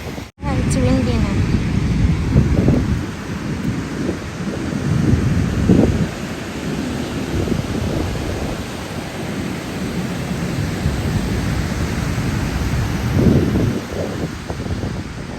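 Strong, cold wind buffeting the microphone at a beach, a continuous loud rumbling roar with gusty swells that lasts throughout without letting up.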